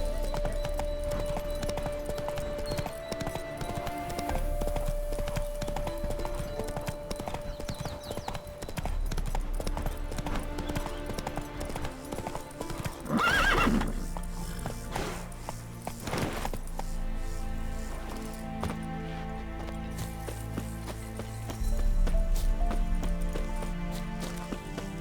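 Roach the horse galloping in The Witcher 3, hooves clip-clopping in a steady rhythm for the whole stretch under game music, with a brief whinny midway and no talk.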